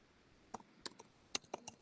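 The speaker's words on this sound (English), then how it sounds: "I'm typing" Keywords typed on a computer keyboard, heard as a sparse, irregular series of quiet, close key clicks, a few isolated strokes and then a quicker cluster near the end, with no talking.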